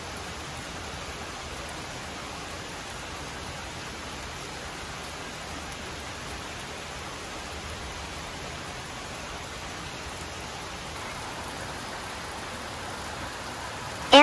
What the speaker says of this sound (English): the shape of a waterfall falling between huge rocks